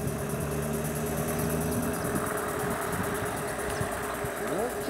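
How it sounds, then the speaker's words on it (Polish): The slow-revving steam engine of the model steamboat "Sylwia" runs at a launch, a faint, steady low chugging with a few rising tonal whines, with no voices over it. "Silnik jest wolno obrotowy."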